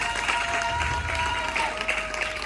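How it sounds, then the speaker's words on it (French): A church audience at a Christian gathering applauds an evangelist with steady, sustained clapping, while a held musical tone carries on underneath. "Acclame très fort l'évangéliste aussi."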